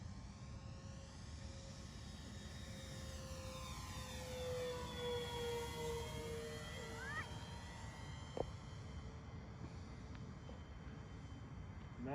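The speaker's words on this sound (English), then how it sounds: "Nice flying airplane." An Avios King Twin 1700 twin-engine RC model airplane flies past, its engine whine rising and falling in pitch as it passes at a distance over steady outdoor background noise.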